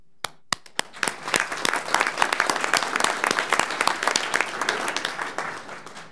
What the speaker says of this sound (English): I want to give all of you a round of applause for doing this and getting through this